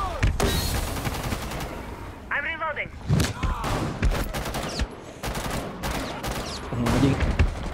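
Gunfire in Rainbow Six Siege's Outbreak mode, bursts of sharp shots and thumps with game effects in between, mixed with someone talking over the action.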